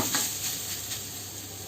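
Carrots with salt sauté in a pan that is covered now and then, giving a steady soft sizzle with faint stirring scrapes close by.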